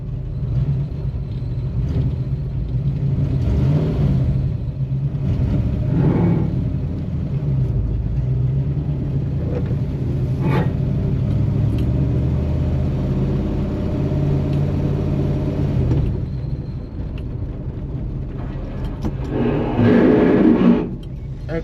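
A Chevrolet Nova driving with its tires rubbing, a low steady engine rumble throughout with rises in revving and a louder surge near the end.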